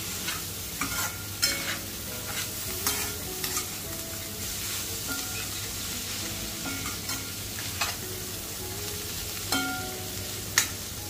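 Chopped tomatoes sautéed in a pan for egg bhurji, a steady sizzle beneath repeated spatula scrapes and occasional sharp clinks against the pan, close and without speech.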